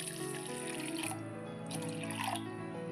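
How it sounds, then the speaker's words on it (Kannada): Water is poured into a pot holding jaggery in a North Karnataka village kitchen, giving soft splashing and trickling in two short bursts over a quiet, low background. "ಈಗ ಇದಕ್ಕೆ ಸ್ವಲ್ಪ ನೀರು ಹಾಕ್ಕೊಳ್ಳೋಣ."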